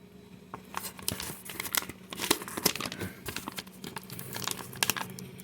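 A plastic coin packet crinkles and tears as it is opened up close, a steady run of crackling rustles at low volume with no talking.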